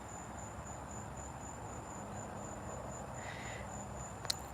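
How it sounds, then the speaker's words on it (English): A cicada drones steadily and faintly at a high pitch throughout, a continuous thin buzz over soft background noise with a small click near the end. "Yeah, I hear the cicada."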